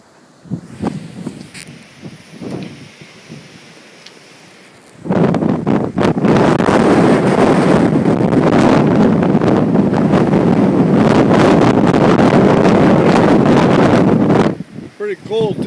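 A blizzard wind in Calgary roars across the microphone outdoors, first faint gusts and soft rustling, then a sudden loud, sustained blast of buffeting wind noise that cuts off near the end.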